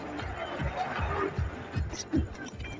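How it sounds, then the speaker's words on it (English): A packed cricket stadium crowd at a T20 World Cup match roars after an England wicket, a dense, sustained cheer under an excited commentator's voice. "Crowd gone crazy here at Lion"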